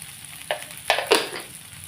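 Sliced onions sautéing in a pan with asafoetida and salt give a soft, steady sizzle, broken by three brief scraping stir bursts partway through.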